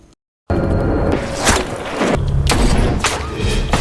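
Several loud gunshots crack in an irregular burst, with booming thuds and a low rumble between them.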